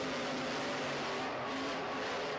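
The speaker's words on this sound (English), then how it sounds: "Both trucks come even off the line to the first turn." Monster trucks launch side by side off the start line in a stadium finals, a loud, dense wall of engine roar filling the whole stretch with no pauses or talk.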